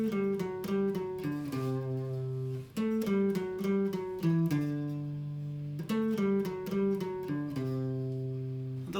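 A guitar plays the rhythmic break riff, with fast repeated picked notes and short pauses between phrases, close and steady with no voices.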